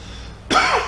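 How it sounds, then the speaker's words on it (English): A teacher in a classroom gives a single sudden cough, a short harsh throaty burst close to the microphone after a quiet moment. "Sorry, horrible cough today."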